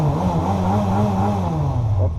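A vehicle engine idling and revving while parked in cold weather, a close, steady low rumble with a slight rise and fall in pitch, loud and continuous throughout.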